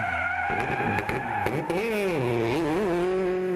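Peugeot rally car on a gravel stage of the Acropolis Rally, with a close, loud engine and gear-change tones that rise and waver alongside brief rattles, the tail moving around as it drives.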